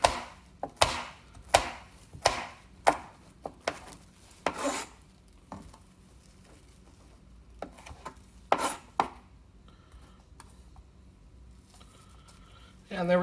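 A knife chops jalapenos on a cutting board in a quick run of sharp, close thuds, then a few scattered cuts and quieter scraping with long pauses between.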